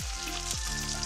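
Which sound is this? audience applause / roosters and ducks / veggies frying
veggies frying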